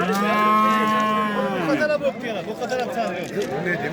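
A cow gives a long, loud moo nearby at the Uzun district livestock market, followed by people talking.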